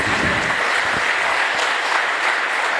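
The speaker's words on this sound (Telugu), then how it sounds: "So please ladies be ready. Big claps." An audience at a women's boot camp event claps loudly together, a dense burst of applause that fills the room throughout.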